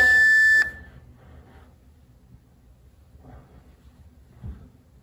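A single loud electronic workout timer beep, a steady tone lasting about half a second at the start, followed by quiet room noise with faint movement.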